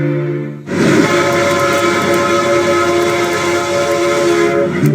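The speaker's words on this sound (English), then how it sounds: "Today's giant locomotives are the latest muscle machines to power the railroad industry." A powerful locomotive horn blasts suddenly and holds a loud, sustained chord over rumbling rail noise, close and dominant.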